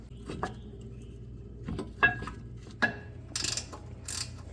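A ratchet clicks in short bursts while tightening 15mm brake caliper mounting bolts on a front brake of an S197 Mustang, close and distinct, with a few quick pawl runs and brief pauses between them.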